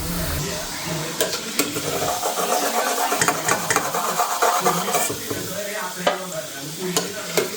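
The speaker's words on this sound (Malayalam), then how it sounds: "ഇനി നമ്മൾ ചെയ്യാൻ പോകുന്നത് ഇത് എണ്ണയിൽ വറുത്തെടുക്കാം" Doughnut dough fries in hot oil with a loud, continuous bubbling sizzle close by, broken by sharp crackles and spatters throughout.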